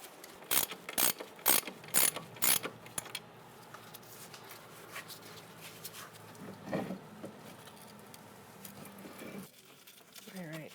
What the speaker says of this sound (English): You're going to take your bolts out.